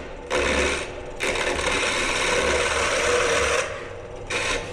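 A turning tool cuts a pen blank on a wood lathe, a steady close rasping scrape that surges in several passes with short lighter gaps between them, over a low motor hum.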